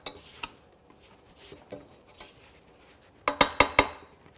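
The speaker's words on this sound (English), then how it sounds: "we're going to make sure we scrape down the sides to get all this stuff off so it mixes evenly" A spatula scrapes the sides of a mixing bowl of pumpkin biscotti batter. The scraping is soft and intermittent at first, then a burst of sharp knocks and clinks against the bowl near the end, all close and fairly quiet.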